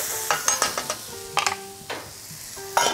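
A spoon stirs polenta seasoned with salt and plenty of ground black pepper in a pan over high heat, giving scattered scraping strokes and soft clatters over a faint sizzle, close and fairly loud.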